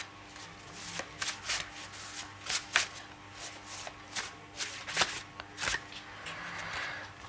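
Tarot cards being shuffled by hand, close crisp riffles and slaps repeating in uneven bursts about once a second.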